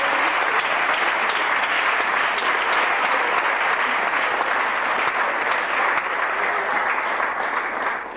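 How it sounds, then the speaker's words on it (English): A crowd at a Howard event applauds for Kwame Ture as he is brought on, with sustained, full clapping that holds steady for several seconds before easing slightly at the end. "Please bring him on with a big round of applause, Brother Kwame Ture."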